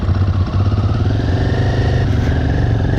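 Motorcycle engine running loud and close on a ride out of Kinnaur Valley, a steady mid-pitched chug with a slight rise in revs as it pulls away; no talk.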